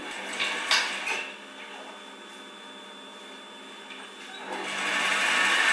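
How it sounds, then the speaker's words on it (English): A sewing machine stitching a long side of each fabric flap for a simple zipless cushion, running steadily with a continuous mechanical whir that quietens mid-clip and then grows louder again. "take the two flaps and machine down one long side of each flap"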